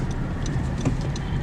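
A car driving slowly down a back alley beside warehouses. A low, steady engine rumble is heard from inside the cab, with faint ticking over it.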